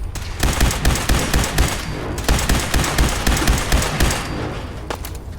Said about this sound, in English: Lob another fragmentation grenade in there.